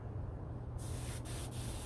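An airbrush spraying paint onto a replica Rolls-Royce jet engine part, starting partway in as a sudden steady hiss and briefly cut twice before resuming, close and alone.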